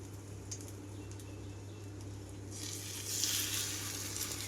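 Bread slices dipped in milk and egg are laid on a hot pan, starting with a soft low crackle that swells into a louder, steady sizzle partway through.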